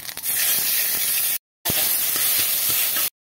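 Cumin and five-spice seeds hit hot oil and sizzle loudly, a dense, close hiss that breaks off abruptly twice.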